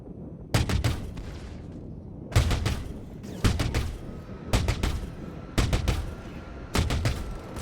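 Turret gunfire in the space game Star Citizen: loud bursts of rapid automatic shots, about six separate volleys spaced over several seconds, each a dense crackling rattle close up, with no talking.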